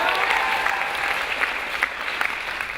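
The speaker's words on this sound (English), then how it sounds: "Can we get a round of applause for Shruti, please?" Audience applause for a speaker at an event hosted by Hustle Co., a steady wash of many hands clapping with a few sharper individual claps standing out, fairly loud and sustained throughout.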